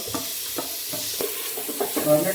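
Onion and tomato sauté in a pan for chicken biryani, with a spoon scraping and stirring in short repeated strokes over a soft, steady sizzle.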